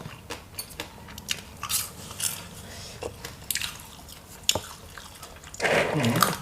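Fried sugarcane beetle larvae bitten and chewed close up, with a series of soft crunches and wet chewing sounds spread through the clip, a louder burst near the end.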